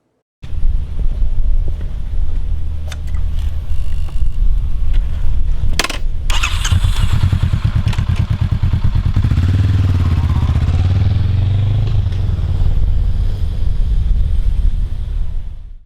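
A 2019 Harley-Davidson FXDR motorcycle starts up and rides, its loud engine rumbling and revving close by under heavy wind buffeting, with a sharp clatter near the start.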